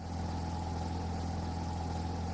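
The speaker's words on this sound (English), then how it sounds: "Sounds like electric car." A car engine runs in a car repair video game, giving a steady, even mid-to-low hum with sustained tonal bands and no change in pitch throughout.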